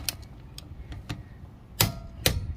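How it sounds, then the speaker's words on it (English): A Lexivon LX-183 1/2 inch click torque wrench set to 76 foot-pounds is being tested, giving a series of sharp, close mechanical clicks that end with two louder snaps. "We can see we got the click there, so we know it's good."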